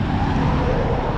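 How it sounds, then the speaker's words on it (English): Road traffic rushes by on a street during a walk, one car passing close with a loud steady whoosh that fills the whole moment. "A lot of traffic out here."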